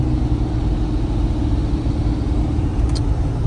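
A Jeep engine idles steadily with a low, continuous rumble and an air-conditioning fan running, holding an even level throughout with no talking.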